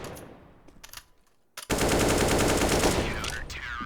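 Gunfire in a Counter-Strike: Global Offensive match: a few scattered, quieter shots, then a sudden loud, sustained rapid-fire burst that rings on to the end.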